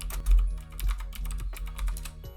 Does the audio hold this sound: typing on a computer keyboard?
yes